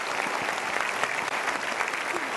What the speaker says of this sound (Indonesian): Cirebon perlu kasih tepuk tangan.